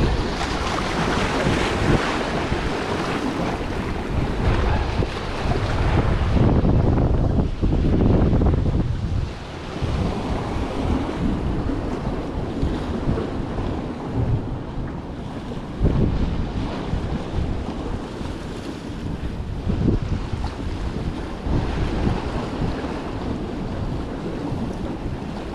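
Strong ocean wind gusting across a jetty by the sea, roaring into the microphone with surf and waves churning underneath, loud and continuous for the whole stretch with no talking.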